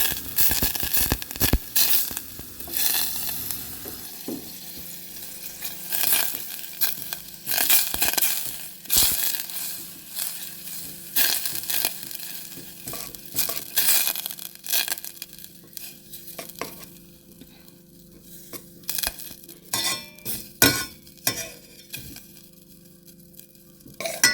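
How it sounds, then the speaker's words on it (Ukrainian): Store-bought butter melting in a hot pan, crackling and popping in irregular bursts of sharp snaps, loud at first then thinning into scattered pops over a steady low hum. "Це починає стріляти зразу і пахне підгорілими вершками, так як масло розтоплюється"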